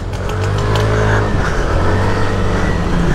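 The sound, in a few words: Yamaha Aerox scooter accelerating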